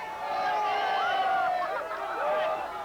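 A crowd gathers outside the presidential palace in the Philippines in 1986 as troops loyal to Marcos file out, a dense babble of many voices with overlapping shouts and cries, sustained and fairly loud.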